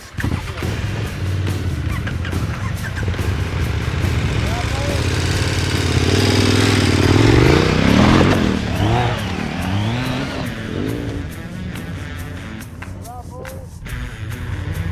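An adventure motorcycle of under 1100cc runs off-road on gravel in off-road mode. The engine drones steadily throughout and swells into a louder rev midway, with voices talking over it.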